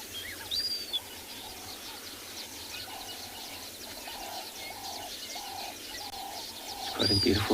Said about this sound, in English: All birds singing about, getting excited since the sun is coming up.